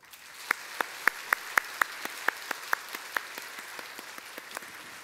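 A church congregation at a Sunday worship service applauds in a thin, fairly faint spread of scattered claps, with a few sharper individual claps standing out over the soft continuous patter.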